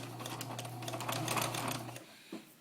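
A home sewing machine stitches fabric for a hedgehog snuggle bag, a steady motor hum with rapid ticking needle strokes that runs for about two seconds and then stops, followed by a brief click.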